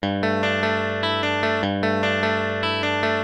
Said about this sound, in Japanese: このフレーズはアタック感のある音にしたいので、カッティングとは反対にブリッジのピックアップを使います。